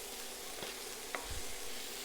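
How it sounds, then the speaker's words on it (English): Onions sizzle steadily in a pan with salt and cardamom seeds for a korma, a soft, continuous hiss with a brief clink near the middle, fairly quiet and with no one talking. "So I've got these onions nicely sizzling"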